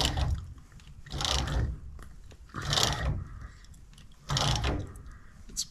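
A bolt is turned out with a ratchet-like tool during removal of a VW Beetle body, heard as three or four separate bursts of grinding, clicking effort, faint and close, with quiet pauses between them.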